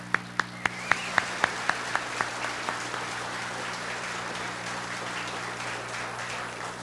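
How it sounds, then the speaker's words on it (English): A conference audience applauds steadily, a dense wash of many hands clapping in a hall, with a few sharp, evenly spaced claps standing out near the start before the sound settles into a continuous roar. "I'd like to give him a round of applause for his contribution."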